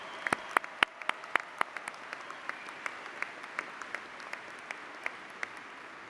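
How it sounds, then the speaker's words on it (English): Sparse, distinct handclaps ring out in a large field house at a college freshman convocation, thinning gradually as the applause fades. "Let's give them all a round of applause for RIT."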